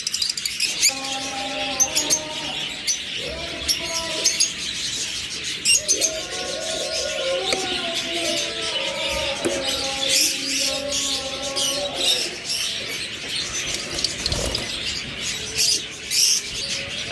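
Caged pairs of Fischer's lovebirds, lutino and red-eyed types, chirp and tweet continuously, a busy overlapping chatter of sharp calls and short whistled notes close by, with a distant hum of other birds behind.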